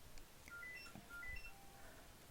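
A mobile phone rings during a home paper-crafting session, its electronic ringtone playing as a repeating pattern of bright beeping tones, fairly faint against a quiet room.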